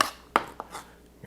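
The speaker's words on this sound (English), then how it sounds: "I'm just bouncing my knife." A kitchen knife chops on a cutting board while vegetables are prepared for Filipino lumpia: a few crisp, separate knocks at an uneven pace, close and clear, with quiet gaps between them.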